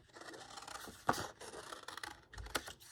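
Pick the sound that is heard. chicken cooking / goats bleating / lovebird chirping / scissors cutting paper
scissors cutting paper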